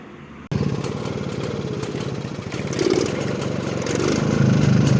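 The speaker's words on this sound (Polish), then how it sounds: "Tak, motocykl sobie pracuje." A 1953 Jawa Perak 250 Type 11 motorcycle engine starts and idles with a steady, throbbing putter, close by, rising slightly in loudness toward the end.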